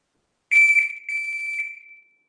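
A shot timer gives a loud electronic beep in two bursts, the second held longer before fading out, against otherwise silent surroundings.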